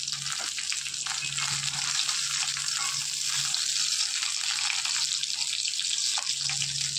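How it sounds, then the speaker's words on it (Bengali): Fish frying in a pan of leftover oil used the night before to fry pointed gourd, giving a steady, close hiss and crackle throughout with faint background clatter and no talk. "পটল ভাজার যে তেলটা ছিল ওই তেলের মধ্যে আমি মাছটা ভাজা করে দিচ্ছি"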